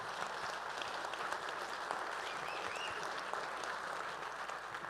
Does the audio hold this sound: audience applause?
yes